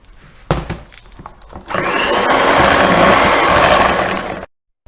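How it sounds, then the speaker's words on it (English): Dry ingredients being mixed into warm ingredients in a bowl for crunchies, heard as a loud, steady scraping and churning that runs for about three seconds after a few short knocks, then stops abruptly. "We're going to add the dry ingredients to the bowl"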